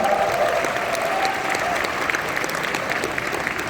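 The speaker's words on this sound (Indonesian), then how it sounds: "Beri tepuk tangan sekali lagi untuk Pak Anies semua" Audience at Idea Fest 2023 in Indonesia claps in sustained, dense applause that fills the room steadily from start to finish.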